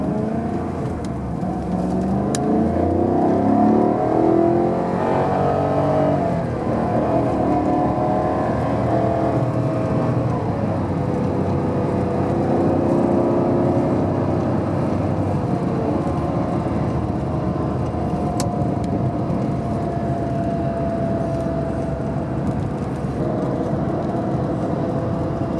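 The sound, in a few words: Maserati Quattroporte engine while driving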